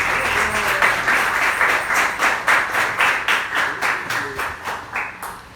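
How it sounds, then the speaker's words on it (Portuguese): Rhythmic group clapping fills the clip, broad bursts of applause swelling and pulsing steadily from a crowd at a church youth service, with no voices on top. "Você pode aplaudir a Jesus aí?"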